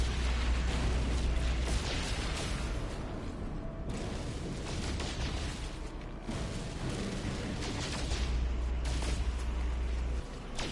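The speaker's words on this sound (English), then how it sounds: "I can take out one of these asteroids in one shot with the Cyclone Ballista." A Cyclone Ballista weapon in the No Man's Sky video game fires continuously against asteroids, a dense, roaring barrage of booming blasts with deep low-end rumble that holds steady throughout and briefly dips before resuming.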